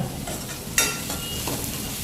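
Tempering spluttering in hot ghee for dal fry, a steady crackling sizzle with a sharp pop near the start and softer bursts, close by, no voices.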